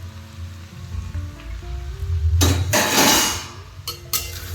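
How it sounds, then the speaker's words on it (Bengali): Mixed vegetables of pumpkin, radish, carrot and beans frying in a pan, with a low steady hum that breaks into a loud hissing sizzle burst, then a shorter second one. "এদিকে ভাজাভাজি করছি আমি অন দ্য ওয়ে"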